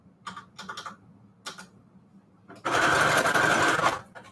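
A sewing machine runs a zigzag stitch through fabric onto manila tags, starting with a few short bursts of clicking, then a loud steady whirring run for over a second before stopping.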